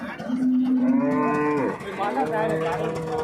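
A cow at the Sardarnagar cattle market in Hyderabad gives a loud, close, drawn-out moo that breaks and rises again into a second bellow, with faint market background behind it.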